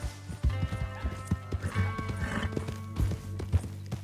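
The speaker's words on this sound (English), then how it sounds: "Hold the horse there!" Horses in the video game Red Dead Redemption II: close, rhythmic clip-clop of hooves with snorts and a neigh, over a low steady hum.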